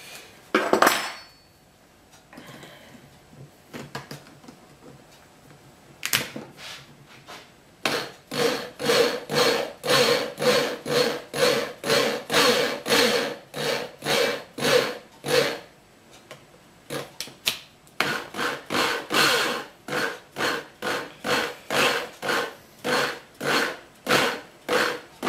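Spoke threading die being tightened and turned on a bicycle spoke, making a long run of rhythmic scraping, rasping strokes close up, with a pause and a few isolated clicks near the start.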